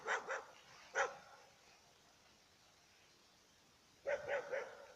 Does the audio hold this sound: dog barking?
yes